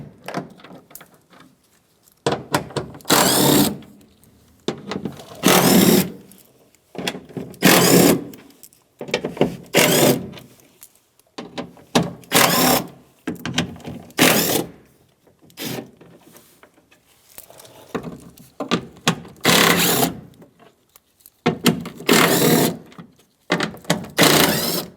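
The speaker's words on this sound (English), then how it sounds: "now we're just going to take out our 10mm bolts all the way around the perimeter of this black piece" A tool working out 10mm bolts around the black panel of a Mazda CX-9 door while the window regulator is being replaced, in repeated buzzing bursts of a second or two with short pauses between them, close and loud.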